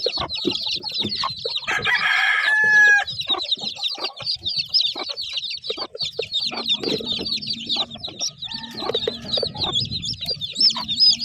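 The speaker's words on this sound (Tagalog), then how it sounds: "Malulusog, matataba itong mga sisiw." Black gamefowl chicks on a backyard game farm peep in a dense, nonstop chorus of high, shrill chirps, close by, with some lower clucking mixed in.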